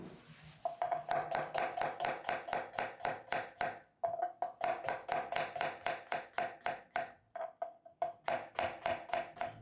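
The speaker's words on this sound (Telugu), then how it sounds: "ముందుగా 2 మీడియం సైజు ఉల్లిపాయలని కట్ చేసుకుందాం" A knife chops two medium onions finely for upma on a board, in fast, even strokes with a few brief pauses, close and loud with no talking.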